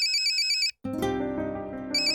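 A bright, repeating electronic ringtone chimes, breaks off briefly, then gives way to a low tonal musical passage before the ringtone pattern returns.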